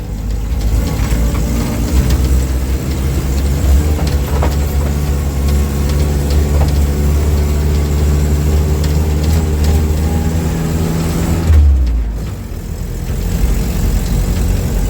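A 1946 Willys CJ-2A jeep drives along with a steady, loud low engine drone and rumble; the sound dips briefly near the end before the engine note returns.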